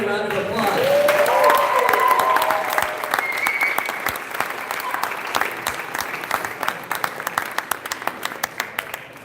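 An audience at a political campaign event for Andrew Yang at Plymouth State University gives loud, sustained applause that slowly thins into scattered claps. A voice speaks over the start of it.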